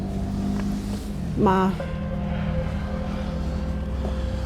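Cars pass outside a once-silent convent grounds as a steady low rumble of traffic, with a brief voice near the middle.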